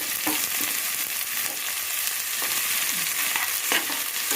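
Onions sautéing in a pan for Kongu-style horse gram rice, a steady close sizzle of frying with a few soft stirring scrapes, no talking.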